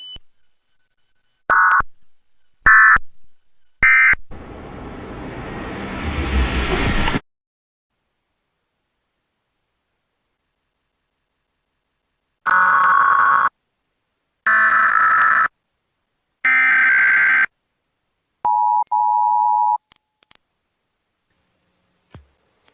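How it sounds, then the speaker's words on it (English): Emergency Alert System national test signal: a burst of loud electronic attention beeps, a stretch of harsh noise, then repeated two-tone alert bursts and a steady single tone, with silent gaps between. "This is a test of the emergency alert system"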